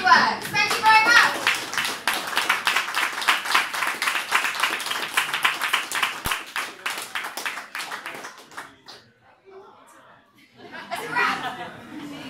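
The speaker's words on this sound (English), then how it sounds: "I'd like to have a big round of applause for the Chemistry Works" Audience clapping at a launch party for the Chemistry Works, a burst of close, rapid hand claps that fades out after about eight seconds, with chatter and laughter mixed in and voices returning at the end.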